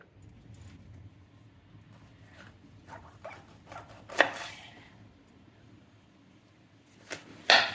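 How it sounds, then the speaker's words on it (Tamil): A knife cutting bitter gourd into even pieces on a board, with a few soft scattered cuts and two sharper, louder chops over a quiet background. "ஒரே அளவாக கட் பண்ணிடுவோம். இது ரெண்டாட்டு கட் பண்ணிடுவோம்."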